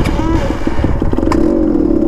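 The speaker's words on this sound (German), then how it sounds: "dann machen wir mal den Motor an" A scooter's small engine starts, sputters and runs with a rough, buzzing idle close by, fairly loud and continuous.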